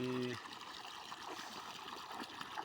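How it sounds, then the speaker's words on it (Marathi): Irrigation water trickles steadily through furrows in a sugarcane field, a soft continuous flowing wash heard alone after a brief tone at the start. "पाणी सोडलेलं आहे."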